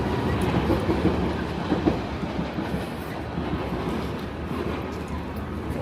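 A Paris metro train near Gare du Nord rolls on its rails with a steady, loud rumble and faint rhythmic clatter throughout, close by and alone.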